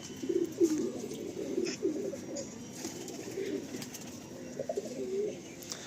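Pigeons at a pigeon loft coo repeatedly in soft, low, rolling phrases, fairly close, with faint chirps and outdoor ambience in the background.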